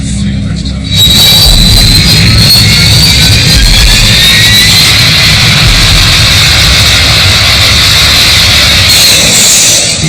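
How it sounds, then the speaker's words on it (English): A Prowler military jet takes off from a runway with a loud, sustained jet engine roar and a rising whine that fills the scene close by, while a voice talks over it. "The Prowler, call sign EZ-01, approaches the runway. EZ-01, you're cleared for takeoff."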